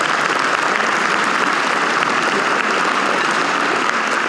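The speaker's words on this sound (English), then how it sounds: "Give them a round of applause." Steady audience applause at an aviation hall of fame event as new board members are introduced, a continuous, even wash of many hands clapping at moderate loudness throughout, with no talk over it.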